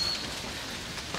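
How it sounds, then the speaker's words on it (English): Rain falling at Fushimi Inari Shrine in Japan, a brief soft hiss of drops on surfaces with faint scattered patter and no voices. "Raining a lot."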